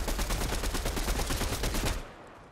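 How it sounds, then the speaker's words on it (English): Fortnite machine pistol gunfire rattles in a rapid, loud, continuous burst for about two seconds, then cuts off abruptly. "Machine pistol!"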